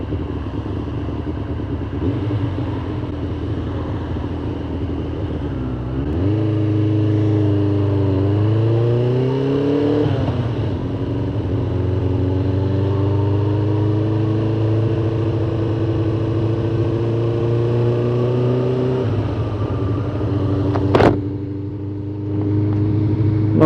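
A Suzuki GSX 600 motorcycle engine runs with a steady exhaust note, idling low and then rising in revs and settling into a sustained drone, loud and close.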